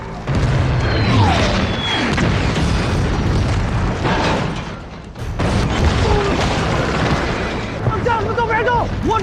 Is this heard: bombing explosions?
yes